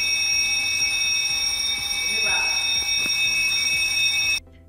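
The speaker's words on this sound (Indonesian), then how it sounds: "alarm biasanya diperuntukkan sebagai suara peringatan yang keras, cadas, memiliki suara yang nyaring" An electronic alarm module for a project blares a loud, harsh, steady warning tone, holding constant for over four seconds before cutting off abruptly.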